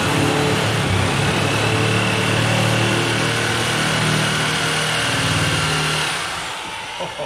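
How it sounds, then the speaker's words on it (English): Power tool cutting 18 gauge sheet metal on a beach buggy build, a loud, steady harsh whine and buzz held for several seconds before easing off at the end. "see if this thing will cut 18 gauge."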